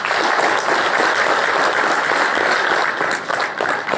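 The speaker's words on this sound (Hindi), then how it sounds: "अपने आप के लिए ताली बजा सकते हो आप।" A large audience claps continuously, a dense and loud wash of applause holding steady throughout.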